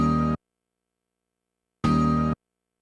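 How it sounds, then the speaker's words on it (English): The first quarter note of a sampled bar in a sample-based track, played as two identical short bright tonal bursts separated by about a second and a half of silence, with no voices. "So I use the first quarter note of the first bar of the sample."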